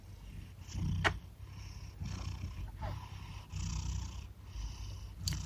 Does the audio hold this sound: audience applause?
no